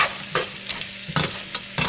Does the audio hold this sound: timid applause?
no